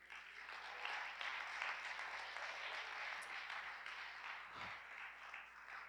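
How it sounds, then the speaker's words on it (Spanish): A church congregation claps steadily during a Spanish-language Christian sermon, a dense wash of hands from a large crowd that keeps an even level for several seconds without a break. "Dele a Cristo su aplauso."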